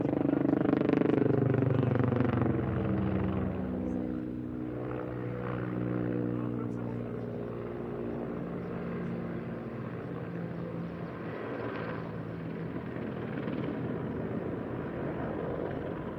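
A Mil Mi-35 Hind attack helicopter flies past at an air show, a loud rotor and turbine roar that sweeps in pitch and then settles into a steady distant drone.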